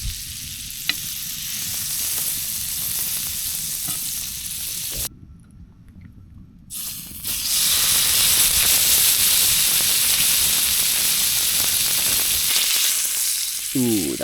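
Steak frying in butter in a pan on a tent stove while hot-tent camping in freezing cold, with a loud, continuous close sizzle that briefly dips before surging back even stronger.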